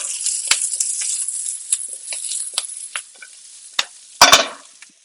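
A sauce being stirred and warmed in a pan, with close scraping and clinking strokes over a light sizzle and a few sharper utensil taps.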